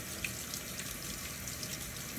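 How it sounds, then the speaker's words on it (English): Tap water runs steadily over rice in a kitchen sink, a continuous close splashing rush with no talk. "So we're gonna go ahead, run the water down."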